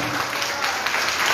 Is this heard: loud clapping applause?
yes